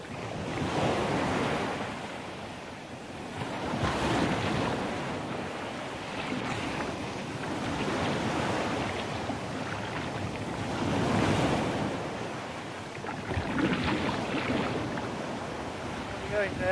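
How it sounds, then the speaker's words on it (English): Rough, cold grey sea in mid-channel in worsening conditions, with waves surging and breaking in slow swells over constant wind rush, loud and close. A narrator speaks now and then over the water. "they struggled on in a cold, grey and threatening sea"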